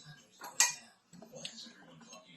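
Glass canning jars, sterilized with their rings, clink sharply once as they are handled and filled with sweet potatoes and syrup. Softer rattling and shuffling follows at close range.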